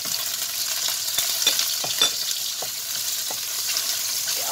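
Fish balls stir-fried in a pan with garlic and ginger give a steady, loud sizzle, with several scraping stirs of a spatula cutting through the frying hiss.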